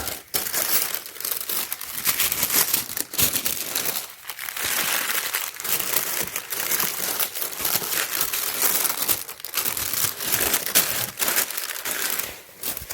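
Tissue paper crinkles and rustles continuously while a pair of Marco Moreo Milano shoes is unboxed, a close, steady crackling with brief pauses and no speech.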